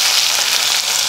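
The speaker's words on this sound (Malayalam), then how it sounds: "നമുക്ക് കടുക് ഒട്ടിക്കാം" Mustard seeds sputter in about one and a half tablespoons of hot oil with dried chili and curry leaves, a loud, close, continuous crackling hiss with no one talking.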